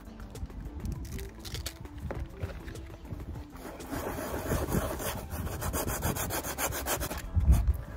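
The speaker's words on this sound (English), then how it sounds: "Let's get sanding then." Steady rhythmic hand sanding of inflatable boat material, a continuous rough rubbing scrape close by, growing slightly louder and busier partway through.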